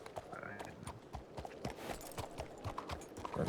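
Horse hooves clip-clop in a quick, uneven rhythm in the Red Dead video game, played on a WildRP server, fairly faint under general ambience.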